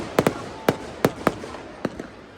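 Sharp firework bangs at a Dussehra Ravan Dahan celebration in Nainital go off one after another, about eight irregular cracks with short pauses, fairly close and loud against a faint background.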